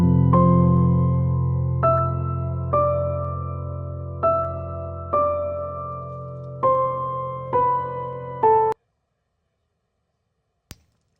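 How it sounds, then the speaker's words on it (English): Piano processed with fast-attack, fast-release compression plays a slow sequence of about eight sustained chords, each struck then held before the next, ending abruptly in silence with a faint click near the end. "So we're going to start with this piano."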